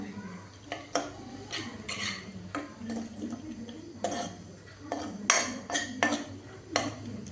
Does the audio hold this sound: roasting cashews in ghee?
yes